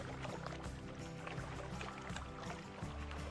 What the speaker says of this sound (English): Suddenly, a boat arrived at her dock with nothing inside but a mysterious letter